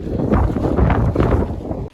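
Steady, heavy desert wind in Joshua Tree buffeting a tent, with low rumbling gusts that swell and ease for a couple of seconds, then cut off abruptly.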